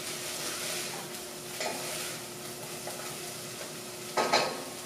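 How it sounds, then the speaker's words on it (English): Onions sauteing in a soup pot, a soft continuous sizzle broken by occasional scraping stirs and clinks of a utensil, close and moderately quiet with no voices. "So the onions are sauteing here."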